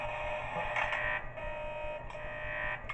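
A buzzing electronic alarm drones steadily in the horror game Five Nights At Smudger's 2, a harsh continuous tone with slight pulsing, moderately loud and heard alone.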